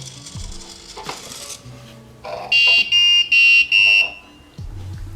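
An Arduino buzzer beeps four times in a steady rhythm after a motion sensor detects movement, loud and shrill, amid light clicks and handling noises.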